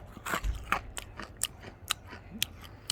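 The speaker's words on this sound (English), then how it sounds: "I'll do a quick snap and ASMR test." Homemade vegan spelt and seed crackers snapped and crunched close up, a series of sharp crisp cracks and bites spaced irregularly over about three seconds, with no talking.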